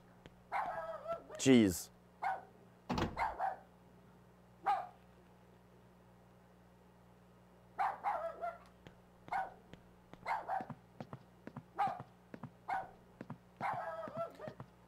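A dog in the video game Rule of Rose barks repeatedly in short, sharp clusters, some yips, fairly close and loud, with a person's voice heard briefly.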